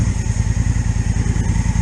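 A Honda Africa Twin DCT motorcycle exhaust thumps close and loud off-road, a rapid, even pulsing beat that lasts the whole moment.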